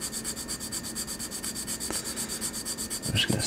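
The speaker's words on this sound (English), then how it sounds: "I'm just going to sand it down" Small plastic interior part of a Hobby Design Nissan GTR R35 model car being sanded, a steady rhythmic back-and-forth rubbing in quick even strokes, close and alone.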